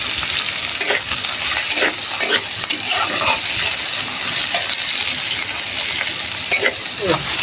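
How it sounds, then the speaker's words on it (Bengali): Chopped onions and chillies sizzle in hot oil in a pan, a steady close crackle with occasional stirring scrapes and no talking. "তেলটা গরম হয়ে গেলে পেঁয়াজ কুচি দিয়ে দিব, মরিচের কুচিগুলো দিয়ে দিব"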